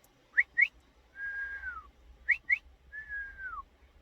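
Sheepdog command whistles from a shepherd: two quick chirps and then a long level note that drops at the end, the whole pattern repeated twice, crisp and close in a quiet setting.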